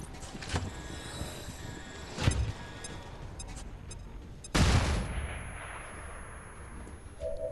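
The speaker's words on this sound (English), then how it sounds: "I can flashbang both of them." Flashbang grenade detonating in XCOM 2 Long War 2, heard as a sharp, loud burst with a lingering ringing tail amid other game impacts and bangs, no talking.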